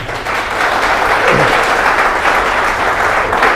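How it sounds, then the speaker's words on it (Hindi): A congregation at a church gathering claps together in one sustained, loud round of applause lasting a few seconds, with dense, even hand claps. "ओके एक ताली फिर से।"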